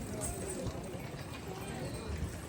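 Horse hooves clip-clop steadily along a pony route on the Vaishno Devi trek in Jammu and Kashmir, a continuous close rhythm mixed with crowd chatter and people talking.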